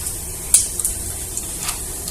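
Whole cumin and bay leaves dropping into hot oil, a soft steady sizzle with a few sharp crackling pops, close and alone.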